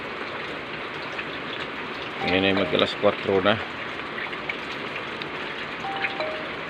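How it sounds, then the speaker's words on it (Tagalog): Steady rain patters continuously on a surface in the early-morning dark, a soft even hiss throughout, while someone speaks quietly over it for a moment. "So, dire-diretso pa rin ang ulan."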